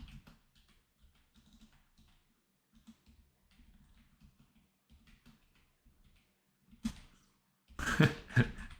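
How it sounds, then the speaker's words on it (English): Soft, sparse keystrokes on a computer keyboard during a live chat session, faint taps scattered over several seconds, ending in a louder burst of clattering noise. "I'm typing on the chat."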